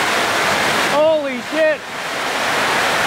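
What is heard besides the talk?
heavy rain pouring down on a market roof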